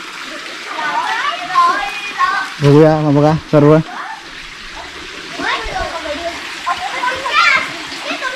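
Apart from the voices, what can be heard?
children splashing and bathing in a well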